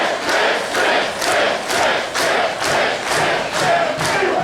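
A split, volatile crowd at an Enjoy Wrestling Enjoy Cup show roars and shouts steadily in loud, swelling waves that come and go about twice a second, like rhythmic chanting, with no talk over it.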